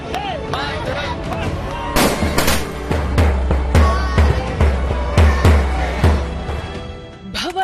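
Applause and cheering at ISRO mission control during the Chandrayaan-3 lunar landing: a loud, dense burst of clapping with rumbling and thumping bursts, close and continuous, swelling in the second half.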